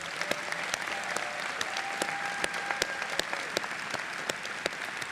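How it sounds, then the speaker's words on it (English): A crowd at a high school graduation ceremony gives the graduating class a long round of applause, with steady massed clapping and a few sharp individual claps standing out near the front. "Let's give one round of applause."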